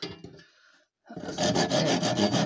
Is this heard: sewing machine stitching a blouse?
no